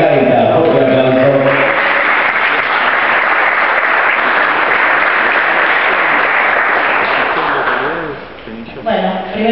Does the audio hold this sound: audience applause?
yes